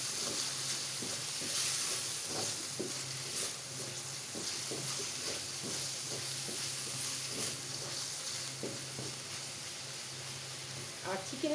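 Chicken stir-fries in a pan for Pad Thai with a constant soft sizzle, punctuated by irregular scraping and tapping as it is turned, all fairly quiet and close.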